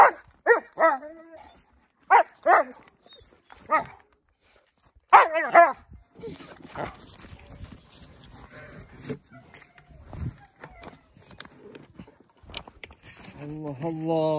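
A Dogo Argentino barks in several sharp, loud bursts near the start, then a whimpering yelp, with people talking over rustling and movement for the rest of the time.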